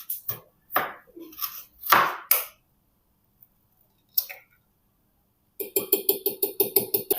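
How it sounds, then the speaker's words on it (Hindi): A knife chops the white part of spring onions on a board for vegetable fried rice, loose uneven thuds at first, a pause, then a fast steady run of close, crisp chops. "अब स्प्रिंग अनियंस के वाइट पार्ट को भी हम रैंडमली चॉप कर लेंगे।"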